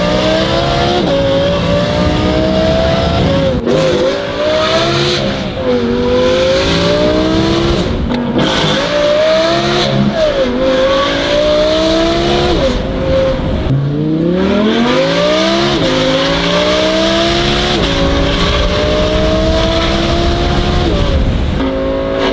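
An Audi R8 V10 fitted with a Valvetronic Designs F1 exhaust revs hard and continuously, its wailing engine note climbing and falling through repeated sweeps at close range, loud and alone without talk.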